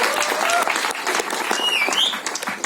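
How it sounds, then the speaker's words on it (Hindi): A crowd at a film trailer launch event claps for a guest being introduced, a short burst of dense applause with whistles rising over it. "जोरदार तालियां लेडीज एंड जेंटलमैन इनके लिए।"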